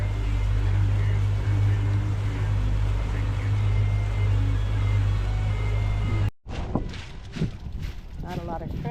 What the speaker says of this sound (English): Look at all these boats out here.